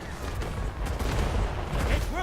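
Grenade launcher fire and explosions in a fantasy battle game, a continuous rumbling barrage of blasts and crackling impacts, loud and close, with someone talking over it.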